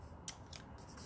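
Scissors snip through metallic paper during paper crafting, with one sharp close cut followed by a couple of softer snips in an otherwise quiet room.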